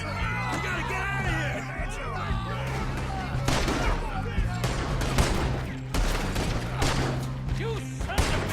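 Rapid bursts of gunfire in a gunfight in the video game Red Dead Redemption 2, repeated loud volleys mixed with shouting voices and background music.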